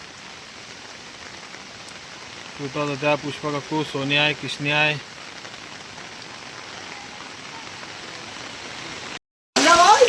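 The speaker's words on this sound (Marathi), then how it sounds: "पावसाचं काय जोर कमी होईना." Heavy monsoon rain falls in a continuous broadband hiss, steady and close, while someone talks briefly over it before it cuts off and resumes loudly.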